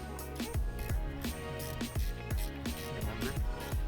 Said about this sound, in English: Go ahead and loosen up the top bolt.